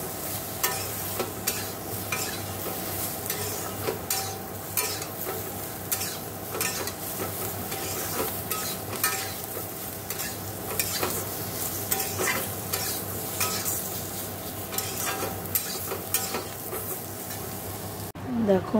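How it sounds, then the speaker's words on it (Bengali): Eggplant frying in a pan on a home stove, a steady sizzle with repeated scraping and stirring strokes at close range, continuing throughout. "এখানে বেগুনটা দেখো ভেজে নিচ্ছি"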